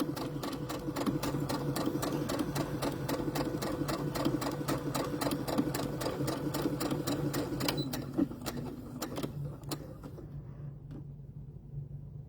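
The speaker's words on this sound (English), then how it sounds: "hemming and sewing your lace on at the same time" A sewing machine hemming and attaching lace in one pass: a fast, even mechanical stitching rattle runs steadily for about ten seconds, then stops, leaving a faint low hum.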